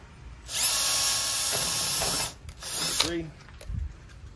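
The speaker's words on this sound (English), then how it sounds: "We're gonna drill our 6 pilot holes." A power drill whirs loudly for about two seconds boring pilot holes into a garage door's metal track, then short bursts and clicks follow as it stops.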